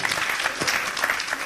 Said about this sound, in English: Why don't we give them an applause?